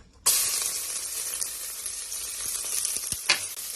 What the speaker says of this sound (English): I'm gonna go ahead and start sauteing my onions and garlic.